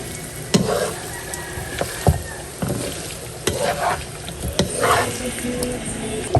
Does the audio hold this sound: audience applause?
no